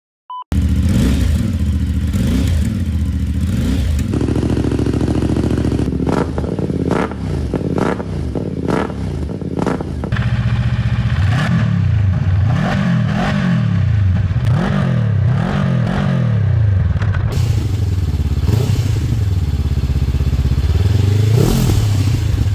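Honda NX500 and CFMoto 450MT twin-cylinder motorcycle engines rev hard again and again, loud and close, with the pitch rising and falling in repeated sweeps over a steady rumbling idle.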